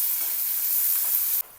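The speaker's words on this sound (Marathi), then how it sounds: "कांद्याला परतून घ्यायचं।" Chopped onion sautés in oil with asafoetida and cumin in a kadhai, giving a brief steady sizzling hiss up close that cuts off abruptly.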